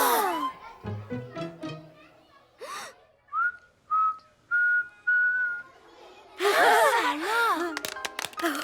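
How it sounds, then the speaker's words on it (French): A girl in a cartoon classroom whistles four short, clear notes, each rising slightly. Gasps and voices come before and after them. "Tu as appris à siffler."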